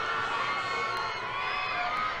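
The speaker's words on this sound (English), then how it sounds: "Crowd building there as people tune in to see this unfolding drama" A crowd roars at the Lidl All Ireland Post Primary Schools Senior A Championship final, a loud, steady mass of cheering with whoops and shrill young voices shouting throughout.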